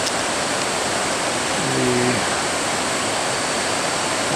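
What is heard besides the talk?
river flowing near a waterfall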